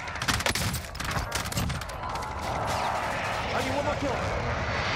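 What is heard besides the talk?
precision airstrike aircraft flyover in Warzone video game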